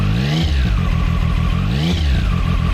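A Zontes 703RR motorcycle engine idles with a lumpy, pulsing note, then rises in two short, light throttle blips that climb and drop back, close and loud, with no one talking.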